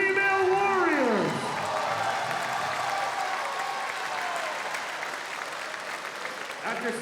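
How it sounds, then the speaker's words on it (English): Audience applause and cheering fill the arena after a women's light heavyweight boxing bout, loud at first, then easing into steady sustained clapping with a fading tone sweeping down underneath. "could we please have a round of applause for these 2 female warriors"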